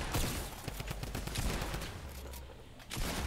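Rapid bursts of video game gunfire crackle loudly and almost continuously, dense volleys of shots stacked close together, with a brief lull near the end before firing resumes.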